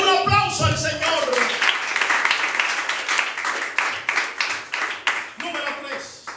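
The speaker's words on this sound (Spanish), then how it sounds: "Denle un aplauso al Señor." A church congregation claps for the Lord, a dense run of handclaps rising after a spoken line at the start, sustained and fairly loud, then thinning as a voice returns near the end.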